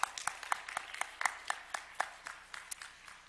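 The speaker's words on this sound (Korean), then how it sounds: "또 그런 박수 한번 보내드렸으면 좋겠습니다." Sparse, distinct claps from a church congregation during a Sunday service, individual hands striking at an uneven rhythm, fairly faint and thinning out toward the end.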